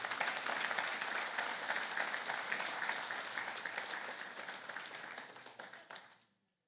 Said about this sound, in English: can you please give them a big round of applause?